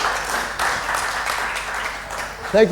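An audience gives a round of applause at a social entrepreneurship event in Bali, a steady crowd clapping heard up close, with a voice breaking in briefly at the end.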